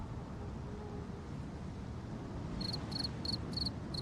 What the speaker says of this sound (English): Do I have a cricket sound in here?